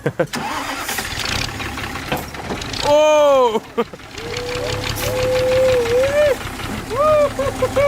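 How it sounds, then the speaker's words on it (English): A tractor engine cranks and fires up, then settles into a steady running drone with pitch shifts as it pulls away; excited voices shout and cheer over it. "I'm driving a tractor"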